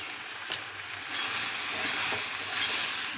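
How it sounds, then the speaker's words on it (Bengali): Ridge gourd with salt and turmeric is turned over in a pan, a gentle hiss of frying rising slightly partway through, with a few faint scrapes of stirring and no voices. "ভালো করে নেড়ে চেড়ে মিশিয়ে নেব"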